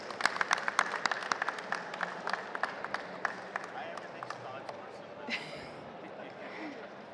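Audience at a hotel and travel technology awards ceremony giving a brief round of applause for an award winner, sharp distinct claps that thin out and fade, with talk afterward.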